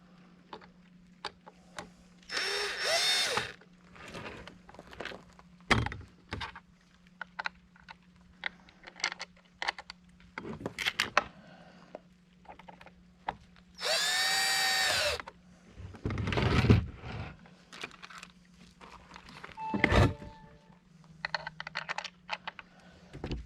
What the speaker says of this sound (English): I'm going to set the drill to like a 4.